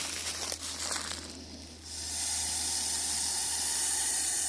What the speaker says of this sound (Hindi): ये देखिए कुकर की शीट की तरह इसका आवाज़ होता है दोस्तों